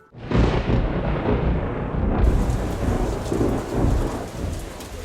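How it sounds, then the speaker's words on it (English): Heavy rain pours steadily at a Philmont camp during a thunderstorm, with deep rumbling thunder rolling underneath from start to finish, loud and close, no voices. "It rains at Philmont. Sometimes it rains a lot."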